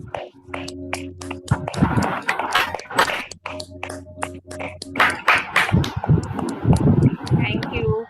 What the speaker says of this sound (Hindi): सभी अनम्यूट करके तालियां बजाएंगे